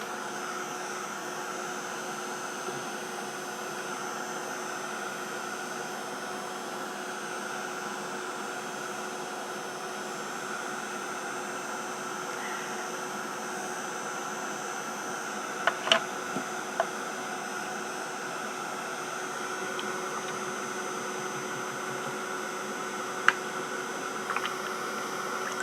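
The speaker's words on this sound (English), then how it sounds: "So I will dry it off with the heat gun." A heat gun runs without pause to dry a mixed media craft tag, giving a steady whirring blow that holds evenly throughout, with a couple of faint clicks near the end.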